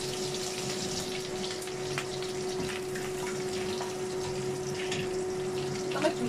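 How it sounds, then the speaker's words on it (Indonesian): Water poured into a pan of frying dried shrimp and garlic makes a steady rushing, bubbling hiss that holds evenly throughout, with no talk. "Kasih air sedikit buat mematangkan itunya"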